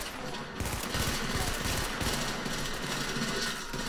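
Rapid gunfire from The Division, a third-person shooter, crackles in dense bursts across the whole stretch, loud and continuous with brief lulls, as a player talks faintly underneath.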